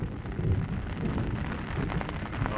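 Heavy monsoon rain pours over flooded farm fields and a village on the first rain of the season, a steady low roar with faint rumbling, no voices.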